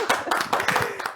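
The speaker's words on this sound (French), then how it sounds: "Applaudissez pour vous." Audience clapping at a French talk-show style event, a quick burst of hand claps with sharp, closely packed hits that rise and fall over about a second, close and fairly loud.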